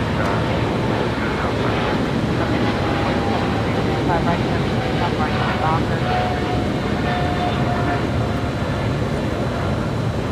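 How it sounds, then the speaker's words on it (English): An EVA Air Boeing 777-300ER on flight 5 to Taipei takes off with a continuous, loud, broadband engine roar, a faint rising whine drifting through the middle. "This is EVA Air Flight 5 taking off to Taipei on a 777-300ER."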